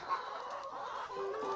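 Rhode Island Red hens clucking in a backyard egg farm, soft low clucks and murmurs over a second and a half, faint and close.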